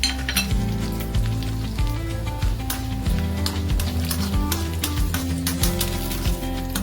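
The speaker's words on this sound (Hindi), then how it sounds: "एक 2 मिनट के लिए इनको अच्छे से सॉटे कर लीजिए ऑयल में" Whole spices and asafoetida sizzle steadily in hot oil in a pan for pickling Natal plums, with a continuous frying hiss and occasional metallic clinks of a stirring spoon against the pot.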